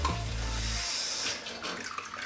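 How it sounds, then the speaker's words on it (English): Warm water runs from a tap into a container, a steady rushing pour that changes tone as it fills before the flow cuts off, followed by faint splashes and handling sounds. "you want to fill it up with warm water."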